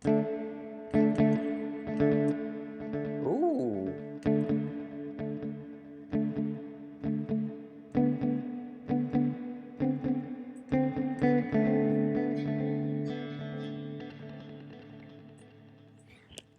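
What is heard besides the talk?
guitar through echo reverb pedal effect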